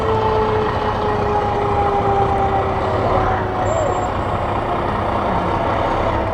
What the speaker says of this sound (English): ladder truck.